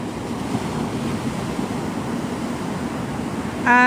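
Ocean surf at Navarre Beach, Florida, at sunset after a tropical storm: a steady, broad wash of breaking waves, with wind buffeting the microphone and a brief tonal sound at the very end.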